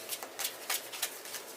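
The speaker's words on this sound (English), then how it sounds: "I'm going to do a couple more shuffles" A deck of tarot-style reading cards is shuffled in several quick riffling bursts, crisp and close, with no one talking.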